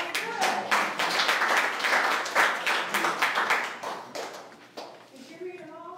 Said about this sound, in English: Y'all get a hand clap